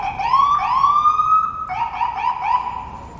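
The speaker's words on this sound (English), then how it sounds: "The ambulance." A loud, nearby siren wails in a rising tone, then shifts to a quicker warbling pattern, with no voices over it.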